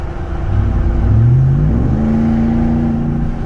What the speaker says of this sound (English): Let me give you a little blip here real quick.